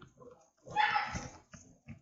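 A dog barking outside, one longer, fairly strong bark in the middle with a few short, fainter yips around it, heard from a short distance with no talking.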